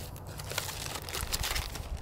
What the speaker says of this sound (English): We're gonna go ahead and rip this bad buddy up